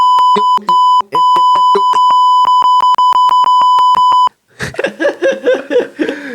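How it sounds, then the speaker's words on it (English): A loud, sustained electronic beep tone repeats in a rapid series of pulses and long holds, then cuts off as people laugh and chatter. "this one I need to press the beep"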